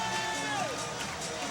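Crowd noise fills U.S. Airways Center in Phoenix before tip-off of a Phoenix Mercury versus LA Sparks basketball game, a steady roar of cheering fans with a whistle-like tone, under an announcer's talk.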